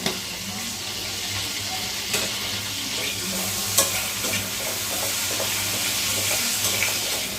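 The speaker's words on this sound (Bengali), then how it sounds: "এবার কড়াইতে বেঁচে যাওয়া তেলের মধ্যে ফোড়নে দিয়ে দিলাম কালো জিরা।" Nigella seeds temper in oil left over in a wok after frying, a constant bright sizzle close by, with a few louder stirring clicks.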